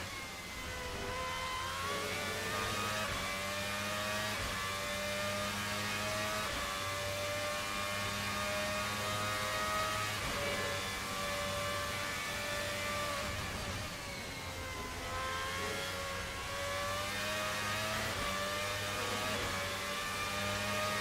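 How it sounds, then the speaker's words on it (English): An RSS Formula Hybrid V12 racing car engine screams at Monza, a steady high-pitched wail that rises through gears with brief dips at shifts, sustained and even for a long stretch without talk. "Let's just listen in to this V12 engine for a little bit"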